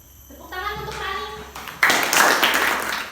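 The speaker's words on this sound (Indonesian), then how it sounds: "Tepuk tangan untuk Rani." Applause from students in an Indonesian classroom during a lesson, a short patter of clapping hands that swells into a louder, denser burst of applause, with a voice heard early on.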